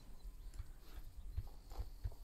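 A Tennessee Walker horse in the Red Dead Redemption 2 game stepping with a few quiet, irregular hoof thuds, soft and low over faint ambient game sound.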